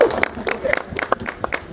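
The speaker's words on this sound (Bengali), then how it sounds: "সবাই একটি করজোরে হাততালি।" A crowd claps at a Khulna Tigers cricket team dinner and bike giveaway ceremony, giving quick, uneven bursts of applause, close and fairly loud, mixed with voices in the room.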